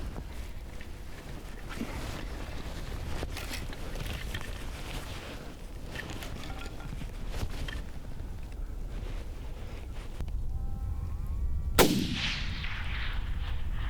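A single loud, sharp rifle crack rings out near the end with a quick fading tail: a long-range shot at a coyote during an open-country predator hunt in South Dakota, heard over steady outdoor wind and ambient noise.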